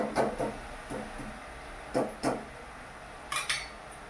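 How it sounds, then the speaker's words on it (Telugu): Curry being stirred with a ladle in a metal pan over a high flame, giving a few sharp scraping clinks in spaced clusters, close and fairly quiet with no talking. "హై ఫ్లేమ్ పెట్టుకొని మంచిగా ఇలా మిక్స్ చేస్తూ ఉండాలి"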